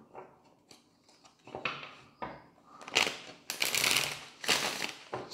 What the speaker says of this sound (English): Let's get three shuffles